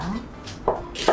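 A knife chops Cheongyang chili peppers on a cutting board in a home kitchen, two or three quiet, separate cuts in a short quiet stretch.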